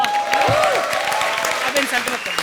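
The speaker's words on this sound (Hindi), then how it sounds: "जोरदार तालियां" Studio audience applause on a Hindi comedy stage show, continuous clapping under musical tones and a sweeping sound effect, with a few individual claps standing out near the front.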